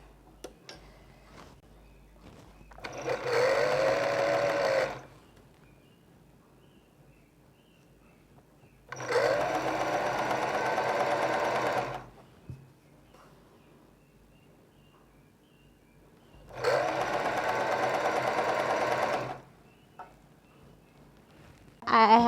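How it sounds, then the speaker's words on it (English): A sewing machine stitches the sides of a niqab veil in three separate bursts of steady running, each a few seconds long with quiet pauses between, close and moderately loud. "So now the next thing I'm going to do is I'm going to sew the sides."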